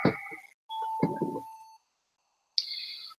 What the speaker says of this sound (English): Oh, no, the ringtone.